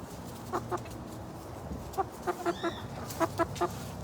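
Chickens cluck in short bursts while feeding on a farm, about ten clear calls grouped in twos and threes over steady low background noise.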